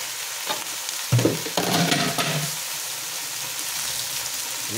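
Food sautéing in a pan, with a steady sizzle under a burst of stirring and scraping partway through, close and moderately loud, no voices.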